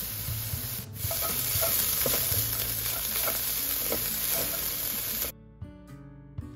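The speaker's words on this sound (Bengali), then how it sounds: "গার্লিকটা একটু ভাজা ভাজা হলে এর মধ্যে দিয়ে দিব অনিয়ন, আর সাথে দিয়ে দিব একটু আদা পেস্ট।" Garlic, onion and ginger paste sizzle and crackle loudly in a hot pan with stirring scrapes throughout, then the frying cuts out abruptly near the end, leaving faint clinks.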